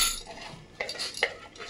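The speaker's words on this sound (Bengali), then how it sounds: "মেথি শাকের সাথে আটাটাকে ভালো করে মিশিয়ে নিয়ে এরকম মাখে।" Dough of flour and chopped fenugreek leaves worked in a bowl, giving soft scraping and a couple of sharper clinks against the bowl near the middle and end of a short, quiet stretch.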